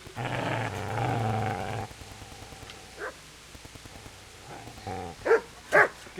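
Dog growling and barking in the video game Kingdom Come, a few short snarls and yelps near the end following a stretch of other game sound.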